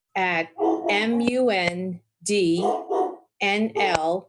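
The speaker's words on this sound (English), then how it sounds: "sorry about the dog" A dog barks and yips in several short bursts with pauses between them, close to the microphone indoors during an online conference call. A brief spoken word can be heard among the barks.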